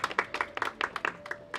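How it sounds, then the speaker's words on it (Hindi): An audience at the Bhojpuri film trailer launch for Maine Unko Sajan Chun Liya claps, a scattered patter of individual claps at moderate distance, fairly faint and irregular. "आप देवेंद्र जी के लिए एक जोरदार ताली बजाइए दोस्तों"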